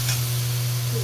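Ground coriander and turmeric masala for egg curry frying in a pan, a steady close sizzle with a low constant hum underneath, brief and even.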